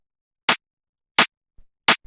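Three sharp, dry snare rim shots without saturation ring out evenly about 0.7 seconds apart in a liquid drum and bass pattern, each crack short and bright with almost no tail.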